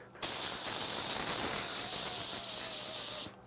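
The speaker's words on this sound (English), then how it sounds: "I've got myself a little bit of spray." Cooking spray hisses from a can onto a tray in one steady, close burst lasting about three seconds, with no talking.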